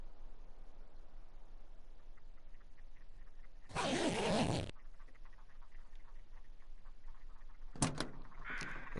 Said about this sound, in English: Listen to all these stupid ass birds.